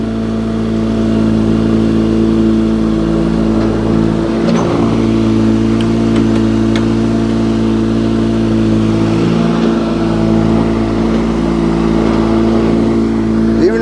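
A Honda HT3813 lawn tractor engine, running after a clutch repair, holds a loud, steady, droning hum close by while driving in gear, with slight rises in pitch and no clear breaks.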